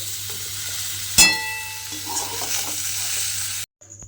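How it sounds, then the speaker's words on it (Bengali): Vegetables sizzle in a hot pan while a utensil scrapes and stirs, with a sharp metallic clank early on before the sizzling cuts off. "যে সবজিটা আমি এখানে ভাজতে দিয়েছিলাম সেই সবজিটা কিন্তু আমার এখানে খুব ভালোভাবে ভাজা হয়ে গেছে"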